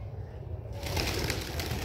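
Pigeons coo and flutter nearby against a steady outdoor background hum.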